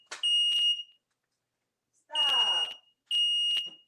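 A household smoke alarm going off with no cooking underway, giving shrill piercing beeps in three separate bursts, one mixed with a brief voice.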